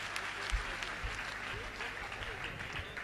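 Audience applause at a Hindi poetry stage event, a continuous, fairly soft wash of clapping lasting a few seconds.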